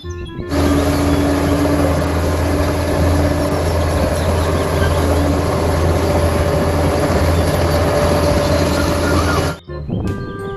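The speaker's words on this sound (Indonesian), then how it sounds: "Kalau yang ini namanya mobil bulldozer teman-teman." A toy bulldozer plays a steady electronic engine drone, loud and close with a constant hum. It runs for about nine seconds, then cuts off abruptly, followed by a few faint clicks.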